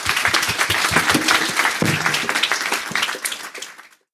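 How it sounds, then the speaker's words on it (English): A conference audience breaks into applause, dense clapping from many hands that stays full for a few seconds and then thins and fades out to silence. "I think that deserves a round of applause."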